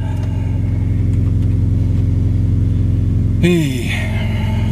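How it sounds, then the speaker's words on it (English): A car engine idles with a steady close rumble, then a single short rev rises sharply in pitch near the end and falls back, with a voice briefly present. "Let's just give it a cheeky rev."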